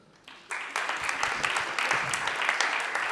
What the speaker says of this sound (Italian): Fate un applauso anche se non andate in terapia